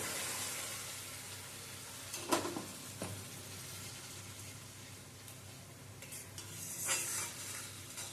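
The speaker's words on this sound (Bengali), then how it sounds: "নেড়ে চেড়ে নেব। টমেটো থেকে যখন এরকম তেলটা ছেড়ে আসবে" Tomato gravy simmering and sizzling in a pan while being stirred, a steady low crackle with a few sharper scrapes of the spoon, moderately quiet and with no talking.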